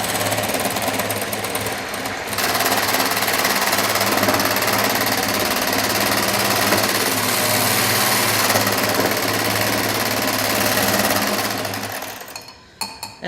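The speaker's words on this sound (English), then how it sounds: "So the next step then would be to beat 3 eggs." An electric mixer whirs continuously while beating three eggs, with a steady buzzing, rattling drone that holds for about eleven seconds and then winds down with a few clattering knocks.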